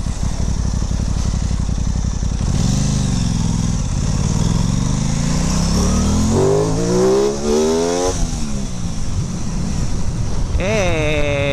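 An Aprilia Tuono 660 motorcycle being ridden on the road, its engine note repeatedly rising through the revs and dropping at gear changes. A loud, close exhaust roar sits under constant heavy wind buffeting.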